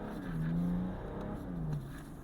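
A tuned BMW F30 330d diesel with over 800 Nm of torque revs hard and accelerates with a deep, throaty roar, rising in two bursts close by.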